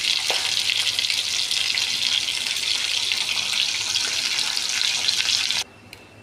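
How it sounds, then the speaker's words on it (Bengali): Pieces of turmeric-coated katla fish fry in a pan, a loud, even hiss of sizzling oil that runs unbroken for several seconds and then cuts off abruptly. "মাছগুলো ভাজা হচ্ছে।"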